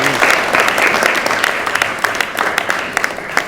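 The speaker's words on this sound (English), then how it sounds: "can you give a round of applause?" An audience at a cervical cancer advocacy workshop gives a round of applause, a dense patter of clapping from many people that stays loud and continuous, with a few louder claps near the end.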